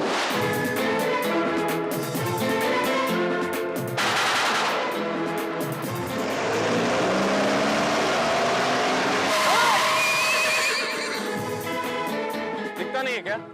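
A car skids with a long, loud tire screech as it brakes hard to a halt, rising over engine noise up close.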